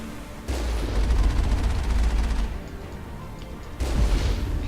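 Gunfire and cannon shots in the video game Mass Effect, a dense, steady stretch of rapid shooting with heavy low booms, loud and continuous with a short break before another burst near the end, no talking.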